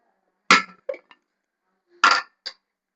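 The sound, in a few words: pressure cooker being handled for boiling potatoes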